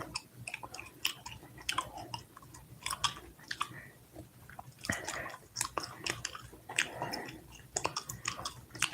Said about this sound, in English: All this damn gum chewing.